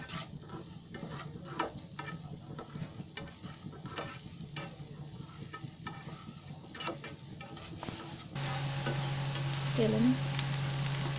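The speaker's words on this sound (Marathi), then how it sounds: "पहिला थोडा कांदा पूर्ण लाल होईपर्यंत भाजायचा आहे." Onion frying in oil in a pan for a Konkani chicken dish, a steady moderate sizzle with occasional stirring clicks, then a louder steady hiss near the end.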